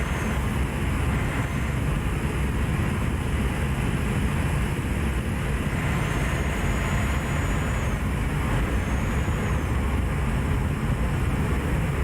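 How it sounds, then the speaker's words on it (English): Steady rushing wind effect while driving a truck at speed in Euro Truck Simulator 2, a broad continuous roar blended with the engine drone, constant in level throughout, with no voices. "Love the sound of that wind effect."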